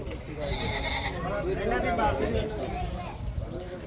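Barbari goats bleat amid the crowd at a rural livestock market, a few goat calls rising over a constant murmur of people talking nearby.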